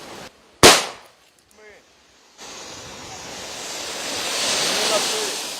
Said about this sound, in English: You heard the explosion. You see the smoke. That's the practice grenade.